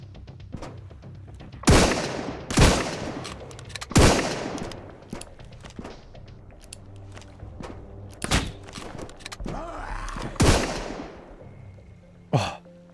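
Gunfire from the survival game Sunkenland cracks out in sharp, loud single shots and short bursts, spaced irregularly with quieter thuds and rustling between them.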